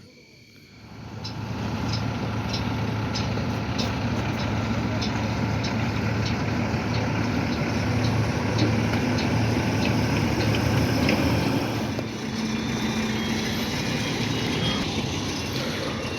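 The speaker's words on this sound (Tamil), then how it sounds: "நமக்கு முன்னாடி ஒரு வண்டி இப்போ தாங்க ஏற்ற ரிவேஸ் போகிறாங்க" A lorry reverses at night beside a sugarcane field to be loaded. Its engine drones steadily and loudly, with evenly spaced high ticks or beeps repeating through most of the stretch before easing off.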